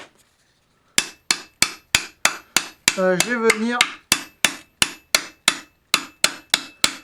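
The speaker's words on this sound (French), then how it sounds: "Donc avec mon marteau à boule là, je vais prendre le gros." A ball-peen hammer rings sharply on metal over an anvil, about a dozen evenly spaced blows while forging a T-rex footprint, with a short spoken phrase in French between strikes.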